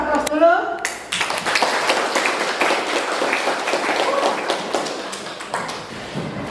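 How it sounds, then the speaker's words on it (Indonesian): A classroom group applauds together, a steady burst of many hands clapping that fills the room for several seconds and begins just after a brief spoken voice. "Kita aplaus dulu."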